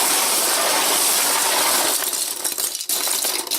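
Loose plastic keyboard keys, a space bar among alphabet and number keys, clink and rattle together as they are shuffled around, a continuous close jangle that thins out briefly near the end.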